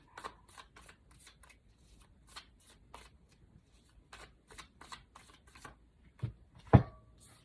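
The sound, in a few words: shuffling and drawing tarot cards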